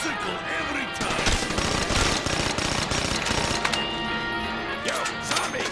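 Rapid gunfire from a weapon in the Call of Duty zombies map Kino der Toten, dense bursts of close shots mixed with impacts and game noise, with voices heard in between.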